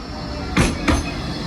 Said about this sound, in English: And there's the tram.